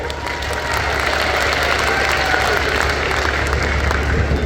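A large crowd at a political rally breaks into sustained applause, loud and dense clapping with some cheering, holding steady for several seconds.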